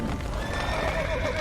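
Horses in The Witcher 3 video game whinny and neigh over steady clip-clopping hooves, loud and close throughout the short stretch, with no talk.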